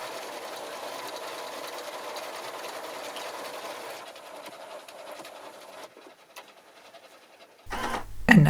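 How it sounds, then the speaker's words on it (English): An electronic sewing machine sews buttonholes, a steady close mechanical hum for several seconds that thins into lighter intermittent ticking before a louder burst at the end. "The electronic machine has a feature to program the buttonhole and will then sew all the buttonholes the same size"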